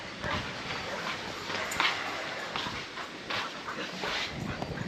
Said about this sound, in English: All the dogs are getting excited